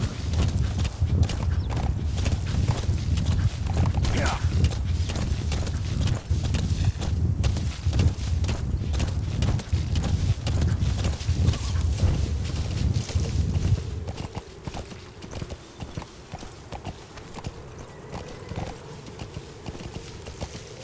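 A horse in the Metal Gear Solid V video game trots with fast, even clip-clop hoofbeats, loud and close for about fourteen seconds, then tapering to quieter, sparser steps.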